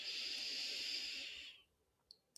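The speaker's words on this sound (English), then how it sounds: "deep inhale" A long, deep breath drawn in through the nose in a calm guided breathing exercise, a steady close hiss lasting about a second and a half, then fading into quiet with a couple of faint clicks.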